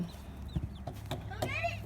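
Hens cluck softly and intermittently nearby, with a few higher chirps and murmurs from a small flock of foraging chickens and eight-week-old chicks outdoors.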